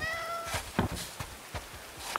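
A cat meows in the medieval colony-building video game Going Medieval, several short tonal cries spread over a couple of seconds against a quiet game background.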